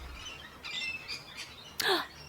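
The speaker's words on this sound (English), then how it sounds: "cockatoos munching on some seeds in the grass" Five or six cockatoos feed on seeds in grass near a bottlebrush tree, giving several short harsh squawks and chirps at irregular moments, ending in one louder screech, with no talk.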